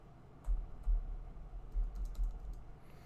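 Computer keyboard typed on during a game stream, a steady scatter of soft keystrokes with a few heavier thumps, close and alone with no talk.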